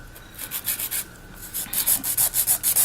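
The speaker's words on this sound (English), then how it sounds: "And file the top." Rapid rhythmic rasping of a nail file across the top surface of an acrylic nail during a glitter nail design, strokes speeding up into a steady back-and-forth scratch, close and clear with no talking.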